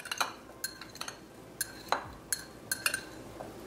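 Oil-free spiced roasted chickpeas are tossed in a bowl, with sparse clinks and scrapes from the bowl and utensil. The knocks come irregularly, close and fairly soft, over a quiet background.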